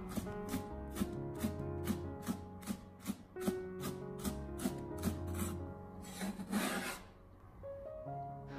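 Knife chopping spring onions on a cutting board, with a fast, even run of crisp close taps and a short scraping flurry near the end; no voices.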